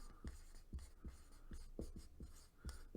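Pen writing on paper, close and quiet, in a quick series of short scratchy strokes with brief gaps between them.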